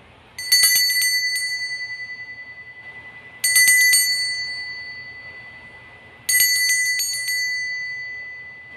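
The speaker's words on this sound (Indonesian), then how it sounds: "kita langsung saja dengan ditandai lonceng berbunyi" A bright bell dings three times at even intervals, each strike ringing out and slowly fading before the next.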